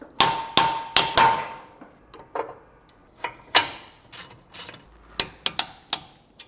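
Sharp metallic knocks and clicks ring out as metal tabs are bent on a repainted brake bracket of a high-mileage V10 BMW E60 M5, coming in irregular close taps with short gaps between them.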